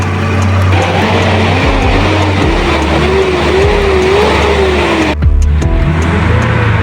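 A gasoline engine idles steadily after its ignition timing has been adjusted, a loud, continuous rumble with a wavering tone. The sound cuts out abruptly near the end and then resumes.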